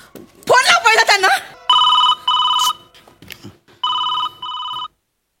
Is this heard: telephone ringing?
yes